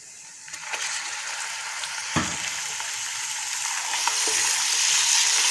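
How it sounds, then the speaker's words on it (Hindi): Chicken and browned onions frying in a pan for achar gosht give a steady, close sizzle that builds slightly louder, with a few sharp stirring clicks and taps along the way. "चिकन को हमने प्याज के साथ फ्राई करना है।"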